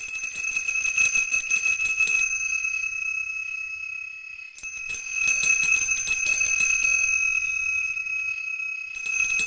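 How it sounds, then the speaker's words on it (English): A bell rings in the Gnomes and Goblins VR game, a bright sustained bell tone with shimmering overtones ringing steadily, briefly dipping before sounding again and continuing to ring. "let me see if I can just ring the bell"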